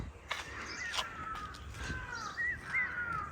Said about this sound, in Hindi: देखो वहाँ जाके क्या कर रहा है ये पहाड़ी कौवा, वहाँ पहुँच के ना बोल रहा है बहुत गंदे तरीके से